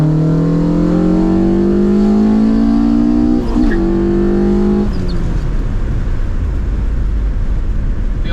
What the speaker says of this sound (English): Just a light third gear pull.